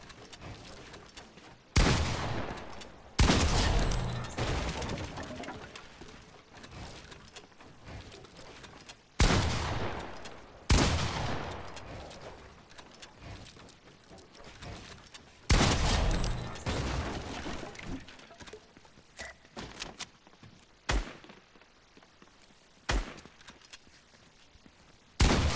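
Gunshots in a video game practice map come as sharp, loud, isolated cracks spaced several seconds apart, each trailing off into a decaying tail, with a few quicker shots near the end.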